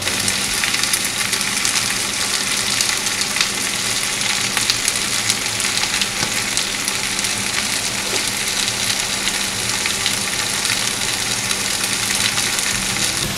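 Korean spicy pork sizzles steadily in a hot pan, a dense, loud, continuous crackle and hiss with no stirring and no voices.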